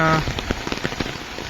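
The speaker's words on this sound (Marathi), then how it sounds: "थोडा बारीक बारीक पाऊस पण पडतोय" Light rain patters on a village house courtyard nearby, a soft irregular crackle of drops, brief and fairly quiet.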